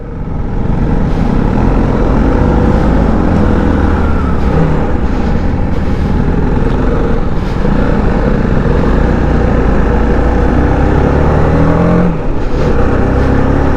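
A loud, continuous 300 cc motorbike engine roar with a steady low drone that swells at times, its exhaust under load, with no voices.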